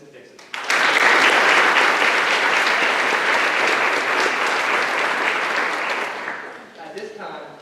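A loud round of applause breaks out suddenly from the audience at a National Honor Society induction ceremony, holds steady for several seconds, then fades as a voice begins speaking.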